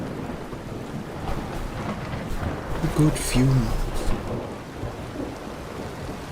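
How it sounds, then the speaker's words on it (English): Steady rain hisses with low rumbles of distant thunder rolling underneath, and a voice speaks briefly partway through. "Ah, the sound of distant thunder and rain."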